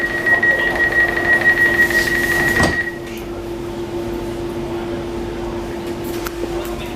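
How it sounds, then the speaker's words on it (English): A DLR B23 stock train door closes inside the carriage: a steady warning beep tone runs for a few seconds, then a loud, sharp thud as the doors shut, leaving a low cabin hum underneath. "the door sound is loud"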